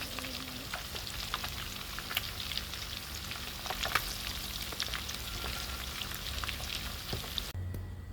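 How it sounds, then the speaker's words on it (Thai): Fish frying in hot oil in a pan gives a steady, close crackling sizzle with scattered sharp pops, continuing almost to the end before cutting off. "ปลามาทอดก่อนนะครับ"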